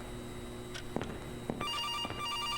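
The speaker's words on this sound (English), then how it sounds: "The phone is ringing." A telephone rings in a video game about spotting anomalies, with several short ring bursts at a steady pace, moderately close and without talk.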